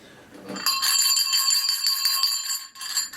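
One bell is struck and rings out with a bright, sustained metallic tone that holds steady for a couple of seconds before it fades and is briefly struck again.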